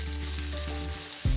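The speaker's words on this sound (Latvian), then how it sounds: "Kad visas būs apceptas no abām pusītēm, tad mēs noņemam nost" Food fries in a pan during holiday meal cooking, a steady close sizzle with a low hum underneath, ending in a short bump of handling near the end, with no talking.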